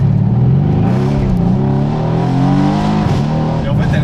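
A Mercedes C63s AMG pulls hard from 0 to 80, its deep engine roar climbing steadily in pitch, loud and close throughout.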